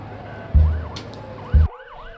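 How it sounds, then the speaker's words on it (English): Police sirens wail on the pause screen of the video game Blacksad: Under the Skin, a rising and falling electronic warble with two heavy low thumps, then the siren continuing alone more thinly. "the police sirens go off in the pause screen"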